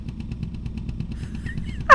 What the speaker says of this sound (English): I think that's a 2-stroke engine.